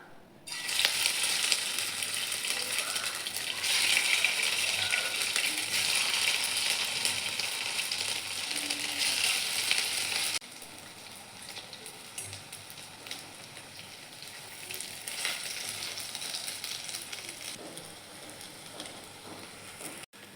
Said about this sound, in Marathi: हे बघा, व्यवस्थित फ्राय झालेत.